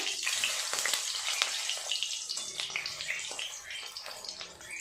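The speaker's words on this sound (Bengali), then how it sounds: "তেল গরম হয়ে গেছে, আস্তে আস্তে ডিমগুলো দিয়ে ভেজে নেব।" Eggs frying in hot oil for egg chilli, a dense, loud, continuous hiss and crackle close by with small spatters throughout, no speech.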